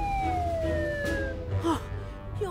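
An emergency ambulance siren in the City of Friends cartoon sounds as a long descending wail, loud and close, with other sound effects layered around it.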